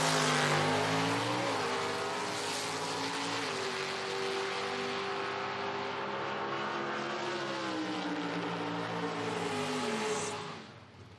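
Pontiac drag race car at an IHRA Outlaw Nitro Series event in Hebron, Ohio, roaring loud and close with a sustained harmonic engine wail that shifts pitch through gear changes for about ten seconds, then drops away abruptly.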